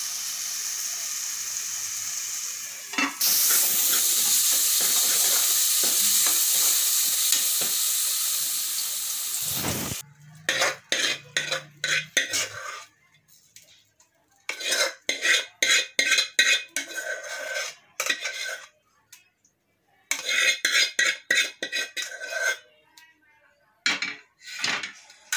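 Tomato chutney for wheat flour dosa simmers in a pan, a steady loud hiss of frying and steam giving way to repeated clattering scrapes and knocks of a spoon stirring against metal in bursts.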